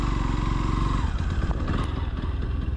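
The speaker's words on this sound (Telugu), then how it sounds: "ఇంజన్ రిఫైనెస్ చాలా బాగుందన్నమాట" A 2025 Yamaha FZ-S V4 motorcycle engine runs with a close, steady rumbling thrum that eases slightly after a moment and continues without talk.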